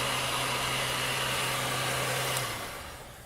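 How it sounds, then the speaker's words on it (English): A heat gun warms vinyl lettering on a car's driver door for removal, giving a steady, close whirring blow with a low hum that cuts off near the end, leaving a softer hiss. "I used my heat gun to get the vinyl nice and warm for removal"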